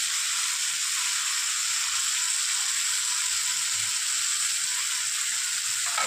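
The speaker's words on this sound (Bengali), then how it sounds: "পরিমাণ মতো নুন দিয়ে এবার পেঁয়াজটাকে আমি খুব ভালো করে ভেজে নেব" Onion, tomato and green chilli frying with salt in a pan, a close, loud, steady sizzle and hiss that runs evenly throughout, with no voices.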